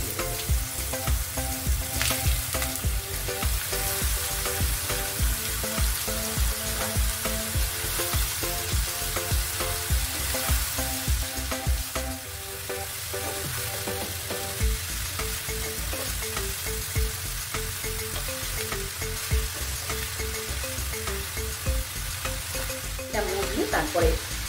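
Ash gourd pieces for a home-style tarkari sizzle steadily in hot oil in a pan, with a spatula stirring and scraping in a steady rhythm throughout.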